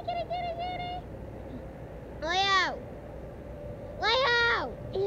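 A cat meows twice, each a drawn-out, bending call about two seconds apart. It is fairly close and clear over a low background hum, with a steadier tonal sound before the first meow.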